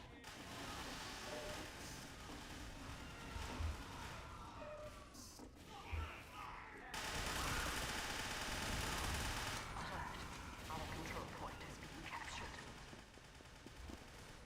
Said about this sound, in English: I love how these nail guns are this overpowered for the scouts.